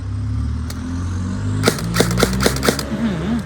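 A string of sharp, single semi-automatic shots from a SCAR-L airsoft rifle, fired one at a time at a steady pace over a low background hum.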